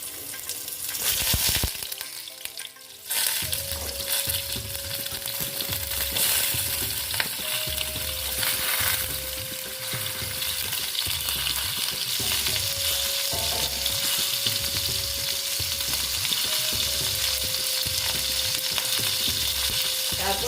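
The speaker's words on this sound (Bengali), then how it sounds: "তারপরে দিয়ে দিচ্ছি দেখো হলুদ দিয়ে পটলগুলো এবার ভেজে নিচ্ছি" Pointed gourd (potol) frying in hot salted oil with turmeric, a steady close sizzle with rhythmic stirring scrapes throughout and a brief dip early on.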